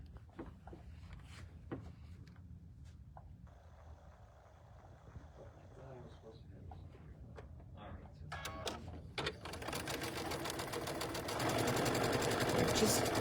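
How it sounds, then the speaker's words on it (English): Sewing machine stitching small seams on a BoardWalk Shamrock quilted table runner, a steady mechanical whirr running throughout and growing louder and busier toward the end, with occasional handling noise. "We're just stitching these little seams."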